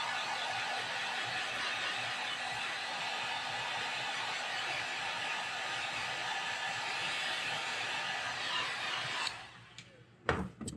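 A heat gun blows a steady, even hiss at close range while setting airbrushed paint on a custom craw fishing lure, running unbroken for about nine seconds before cutting off into a few faint handling clicks.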